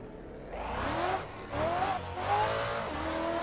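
A race car engine in the Assetto Corsa driving game revs hard through three rising pulls, each broken by a brief gear change or lift, loud and close with a rasping, climbing whine.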